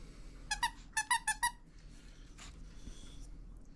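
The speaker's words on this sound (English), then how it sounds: "It squeaks, I think." A squeaky dog toy at a grooming salon gives five sharp squeaks in quick succession, close and clear, followed by quieter rustling and a faint squeak.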